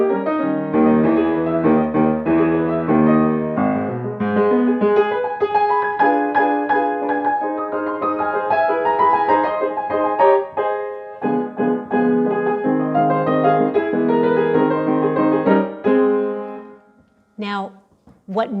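Ragtime piano playing Scott Joplin's Maple Leaf Rag from 1899, a steady, loud, bouncy stream of syncopated chords and melody lasting nearly the whole stretch before breaking off near the end.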